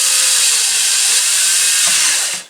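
Power drill driving wood screws through a new number plate, a loud, close, continuous high whine running steadily for a couple of seconds before cutting off abruptly at the end.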